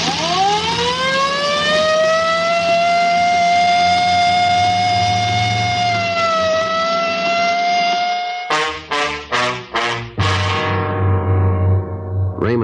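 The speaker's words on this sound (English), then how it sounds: "I better use the light and siren, Frank." A police car siren wails loud and close in a radio drama, a long rising then steady tone that shifts into rapid short yelping bursts before sliding back to a wail, with no talk over it.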